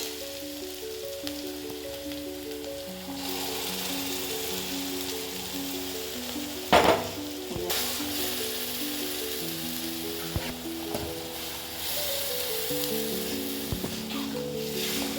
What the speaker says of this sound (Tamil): வெங்காயம் நல்லா வதங்கிடுச்சு. இப்போ அரைச்சதை ஊற்றிடலாம்.